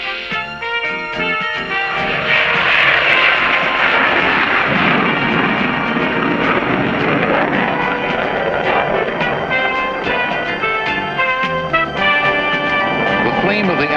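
F-14 fighter jet engines with afterburners roaring on a runway at takeoff, a loud, sustained broadband rumble and roar that swells early and holds steady throughout.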